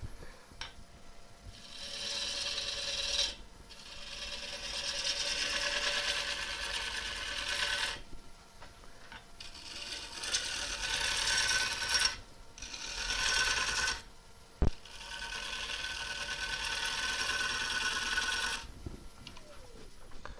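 A wood lathe turns a gnarly crotch-wood bowl blank while a gouge cuts, giving sustained scraping, rasping bursts separated by short quiet pauses, close and fairly loud with no talking.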